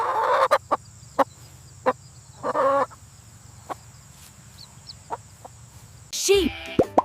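A chicken clucks in short, separate bursts spread across the clip, with a louder squawking call near the end over a quiet, faintly humming background.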